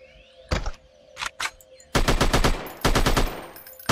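Gunfire in the zombie-hunting video game Dead Hunting: a few separate single shots, then dense rapid bursts of automatic fire, loud and close, with no talking over it.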